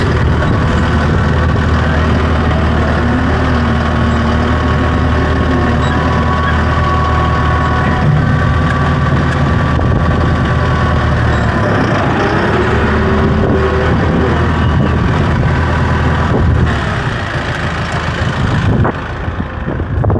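A farm tractor engine idles with a loud, close, continuous diesel rumble that holds steady for the whole stretch, with no talking.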